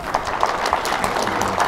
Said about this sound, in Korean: 자 우리 김은구 대표께 우리 박수 좀 부탁드리겠습니다.